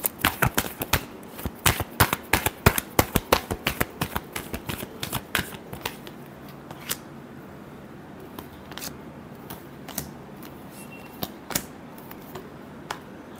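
Tarot cards are shuffled in a rapid run of crisp riffling snaps that thin out into scattered slaps and taps, close and loud, with no voices.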